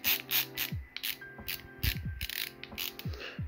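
An LTT ratcheting screwdriver clicks through a series of quick ratchet strokes, its sharp mechanical ticks close and clear, coming in uneven bursts with no talking.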